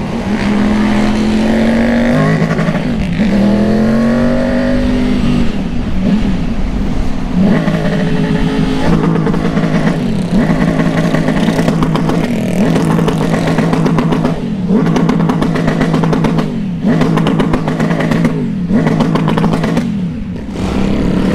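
A car engine revs hard and repeatedly through a loud exhaust, rising and falling in pitch with rattling, close and sustained throughout.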